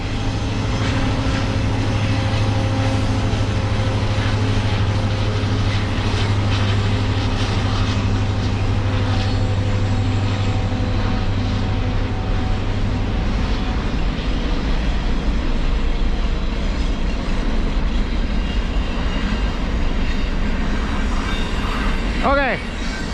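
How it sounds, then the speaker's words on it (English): An approaching Kansas City Southern freight train rumbles steadily and loudly, a low drone holding for the first half before the noise broadens, with brief voices mixed in. "Yeah, I can hear one coming. Oh, it's a Kansas City Southern."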